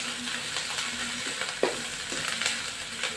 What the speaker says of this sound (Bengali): তারপর নেড়ে চেড়ে ভালোভাবে মিক্স করে নেব।